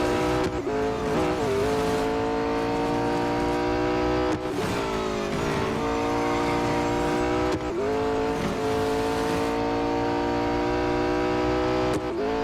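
A race car engine in the Real Racing 3 mobile racing game drones loudly and steadily, its pitch climbing and dropping through several sharp gear shifts and braking points, with no talk over it.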